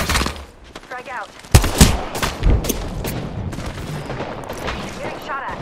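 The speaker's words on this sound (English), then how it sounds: "Getting shot at." Gunfire in the Apex Legends video game comes as rapid bursts of shots, loud and dense. Some rounds are close and punchy and others come from farther away, and in-game voices speak over the shooting.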